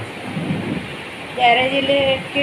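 Rain falls steadily in a monsoon downpour as a broad, constant hiss, with faint distant rumbles and brief high background tones in the second half.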